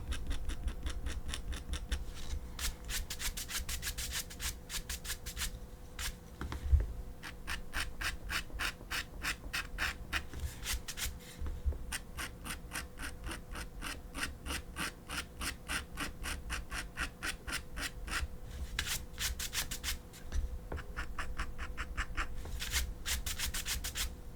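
A tool is scraped repeatedly across the surface of a watercolor greeting card drawing, producing fast, rhythmic scratchy strokes in long runs with short pauses, close and fairly quiet, with no talking.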